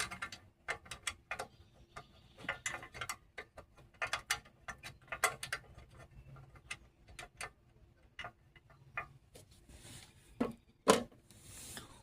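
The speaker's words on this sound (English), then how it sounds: "Gotta put that bolt back on." A ratchet tightens the bolt holding the gas tank on a Briggs and Stratton push mower, giving scattered quiet clicks in short irregular runs, with a couple of sharper knocks near the end.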